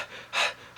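A person imitates panting, making quick, airy breaths through the mouth in a runner's breathing rhythm. There are three short bursts, the second and third louder, and no talk.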